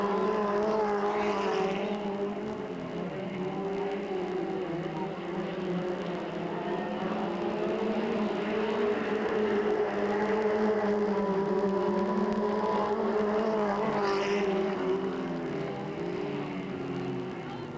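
Race cars run their final lap at Delta Speedway in 1997: a continuous loud roar of several engines that swells as cars pass close, heard from trackside.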